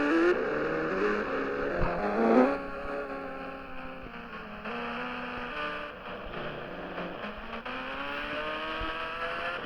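A racing bike engine from the Indian Bike Driving 3D video game drones steadily for the whole stretch, with harmonic pitch rising and falling as it revs and a brief loud surge early on.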